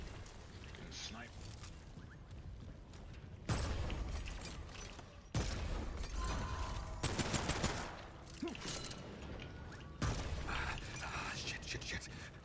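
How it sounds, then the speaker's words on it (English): Sniper gunfire in the game Remnant 2, loud sharp shots landing at irregular intervals amid busy game noise, with a player talking now and then. "Getting sniped."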